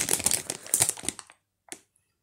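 A plastic collectible packet from a mini sticker-and-figure unboxing is torn open with a busy burst of close, crisp crinkling and rustling, then stops, followed by one short sharp crackle.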